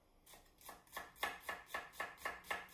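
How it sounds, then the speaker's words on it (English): A knife slices onions into strips on a cutting board, about eight quiet, evenly spaced chopping strokes in a steady rhythm, close but faint. "when I cut my onions down like this into strips"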